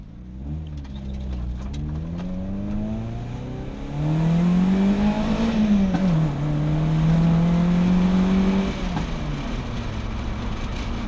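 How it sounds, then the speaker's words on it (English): A ZR 135 car drives and accelerates hard, its engine note rising steadily through the gears, loud and close, with no talking. "So as you just saw, the ZR runs really well now, it pulls really hard"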